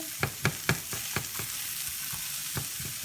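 Onions stir-fried in a pan with steady sizzling, a spatula scraping and stirring in a quick rhythm of several strokes, close and fairly loud, no talking.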